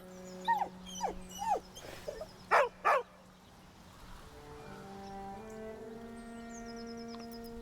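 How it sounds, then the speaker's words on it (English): Scratch the dog in Baldur's Gate 3 gives a series of short, close whines and yips in the first three seconds, then falls silent as a sustained synth music drone takes over. "He whines, but remains rooted by the corpse's side"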